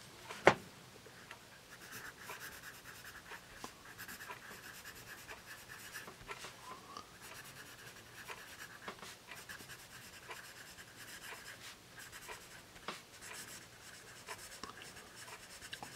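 Pencil on paper, a Blackwing Volumes 4 graphite pencil writing in soft, continuous scratchy strokes with brief pauses, very quiet and close, no voices.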